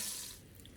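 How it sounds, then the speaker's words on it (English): Melted butter sizzling and bubbling in a pan, a steady hissing, crackling fizz that thins slightly over a brief moment, close and fairly quiet with no talk. "Do you see how it's really bubbling here? You want your butter to be melted"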